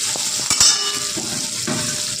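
Sliced onion drops into hot oil with five-spice tempering, giving a steady sizzle with a couple of sharp utensil knocks against the pan and brief crackling bursts; no talking.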